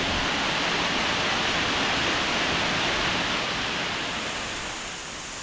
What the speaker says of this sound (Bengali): চেরাপুঞ্জি যাওয়ার পথে নাম না জানা ঝর্ণা।